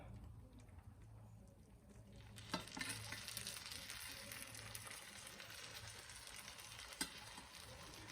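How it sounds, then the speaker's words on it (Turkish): Hot sugar syrup poured over freshly fried, hot pistachio burma kadayif, a quiet crackling sizzle that jumps louder partway through and carries on with faint pops. "Bismillahirrahmanirrahim ekleyerek sıcak sıcak şerbetini veriyorum"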